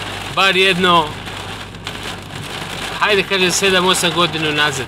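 Heavy rain pours during a storm while driving, a steady dense hiss of drops on the vehicle running under someone speaking.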